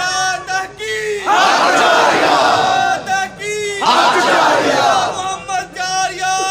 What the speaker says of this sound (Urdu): اہی کلندر نعرہ لائے گا نعرہ تحقیق